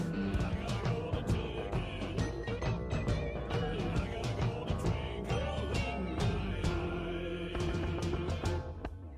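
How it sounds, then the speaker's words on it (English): Dense, full-band rock music from an album covering songs from Charlie and the Chocolate Factory, a busy band mix of bass, drums and quirky instruments playing steadily and loudly throughout without any speech. "listen to their album covering music from Charlie and the Chocolate Factory that sounds like this"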